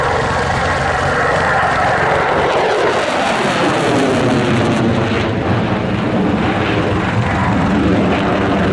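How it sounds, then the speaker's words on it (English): A Royal Air Force Typhoon fighter jet makes its final pass at the RAF Cosford Air Show, a loud, continuous roar that swells and sweeps past, with a sharp tonal shift as it goes by. "Royal Air Force Typhoon."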